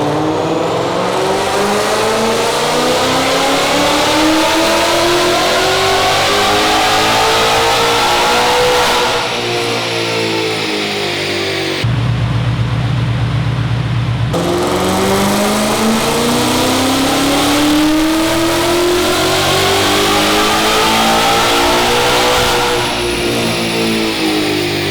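A Ford Mustang engine revs hard through two long dyno pulls, rising steadily in pitch, then breaks into a short rough drone before climbing again, loud and close throughout.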